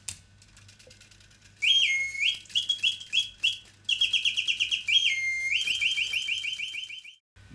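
A restored antique Reuge mechanical singing bird movement sings nightingale song, with clear whistled phrases, rapid pulsing trills and sustained warbles in a few long bursts, close-up over a soft underlying mechanism hum.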